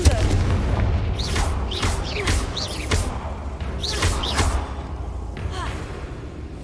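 Confringo blasting-spell explosions in the game Hogwarts Legacy: a series of about six booming blasts in an uneven rhythm, each with a sharp crack and a short tail, over a constant low rumble with faint voice-like sounds.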